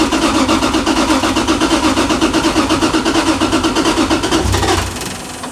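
A 1100-horsepower 2JZ engine swapped into a Nissan 370Z cranks with a rapid, rhythmic starter chatter for several seconds, then catches and drops into a lower idle rumble, loud and close.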